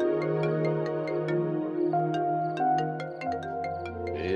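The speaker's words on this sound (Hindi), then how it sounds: "सदफ का फोन आ रहा है" A mobile phone rings with an incoming call, playing a steady melodic ringtone with tinkling notes over sustained tones, clear and continuous.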